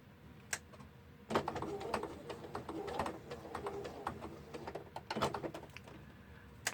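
A sewing machine runs steadily through layered lacy fabric, its rapid mechanical needle clatter continuing for several seconds after a brief start, close and fairly quiet.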